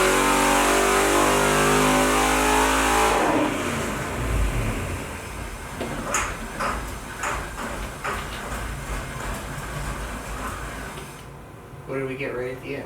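An Oldsmobile 384 engine on a dyno, loud and sustained as it revs hard and then cuts off abruptly, leaving a rougher lower running sound with voices talking over it.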